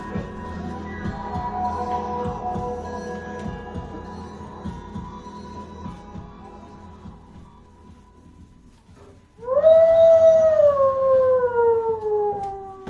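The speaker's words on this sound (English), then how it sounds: "I select only the wolf howl" A long wolf-like howl sample played on a keyboard in the iZotope Iris synthesizer rises sharply and slowly falls, loud and close, following a steadier droning tone that fades beforehand.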